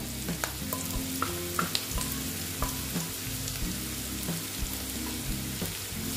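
Ginger and garlic paste frying in a pan alongside soybean and egg, giving a soft, steady sizzle punctuated by light, irregular utensil clicks, with no one speaking.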